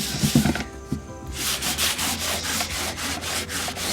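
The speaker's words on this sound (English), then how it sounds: "with me sanding it down, and you sand it away" Hand sanding of painted wood furniture, with steady back-and-forth rubbing strokes that are close and loud and follow a brief handling noise at the start.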